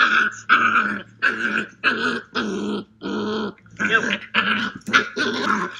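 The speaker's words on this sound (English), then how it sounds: "here's this 8 week old puppy who's just totally out of control and just wants to attack everybody" An 8-week-old Belgian Malinois puppy growls in repeated bursts, with snarling, whiny yips between short pauses, close and fairly loud with no talking.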